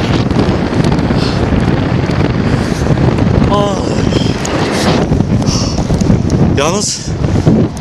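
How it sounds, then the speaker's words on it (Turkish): Heavy wind buffets the microphone in a constant loud roar on a hilltop overlooking Amasya, with a person's brief exclamations and words breaking through. "Rüzgar acayip vuruyor."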